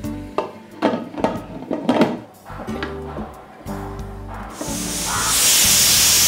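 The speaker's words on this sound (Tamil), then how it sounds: "ஸ்டீமை கொஞ்சம் அடையே லைட்டாக ரிலீஸ் பண்ணிவிட்டு ஓப்பன் பண்ணி பார்ப்போம் சரியா" Steam hisses from a pressure cooker of dhaba-style mutton curry, a loud broadband rush that swells over the final second and a half after clattering, stirring noises.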